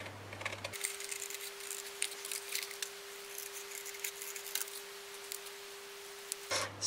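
Scissors cut cardboard packaging into small pieces, making quiet, irregular snipping clicks close by, with a low background hum and no talking.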